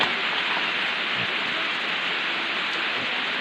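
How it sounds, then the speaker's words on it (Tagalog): Steady rain pours down in an even, hissing wash, close and constant with no breaks and no voices. "Ulan siya."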